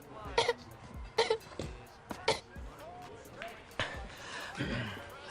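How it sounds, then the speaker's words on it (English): A man coughs in a replayed stream recording, several sharp coughs in quick succession near the start, then throaty clearing and rougher bursts, fairly close and moderately loud. "he just has a little cough"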